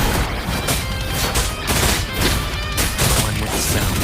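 Mortar rounds and explosions in the action game Wuthering Waves land in a dense, continuous barrage of loud booms and gunfire-like bursts over a roaring, busy background.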